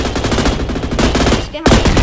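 Rapid, sustained PKM machine gun fire in a video game: a dense, loud stream of shots with a brief break near the end before the firing resumes.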